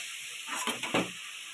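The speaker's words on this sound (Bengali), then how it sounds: "আদা রসুন লঙ্কা কাঁচা লঙ্কা পেঁয়াজ সব কিছু কষিয়ে নিচ্ছে" Onion, ginger, garlic and green chillies sauté in oil with cumin and bay leaf, giving a steady close sizzle that swells with a few scraping stirs before settling back to a hiss.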